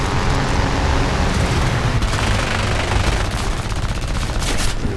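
Machine guns on an I-15 WR fighter plane in the War Thunder air arcade game fire in loud, continuous bursts, a dense rattling stream of gunfire over engine roar, with brief sharper volleys toward the end.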